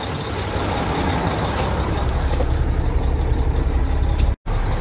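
A truck drives along a farm run to collect the final load of chopped corn, its engine a loud, steady rumble that fills the whole stretch with road and mechanical noise, dropping out for a brief instant near the end.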